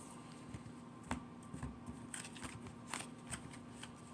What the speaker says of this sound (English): to shuffle just a little bit more